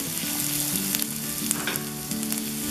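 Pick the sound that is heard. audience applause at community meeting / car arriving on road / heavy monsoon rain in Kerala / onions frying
onions frying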